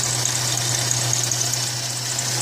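A Ford Mustang 2.3L distributor engine runs steadily at idle, a close, even hum with a faint chirping belt and no talking.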